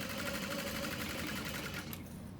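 A sewing machine stitches leather and facing for an Alexa bag, a quiet, rapid, even whir that cuts off near the end.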